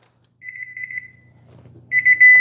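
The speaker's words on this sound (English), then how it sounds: "Timer." Kitchen timer alarm going off, a short rapid electronic beeping burst, then a pause with faint rustling, then louder beeping starting again close by.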